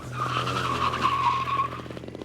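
A racing go-kart skids sideways, its tires letting out a loud, sustained squeal over a steady engine drone, close and without voices.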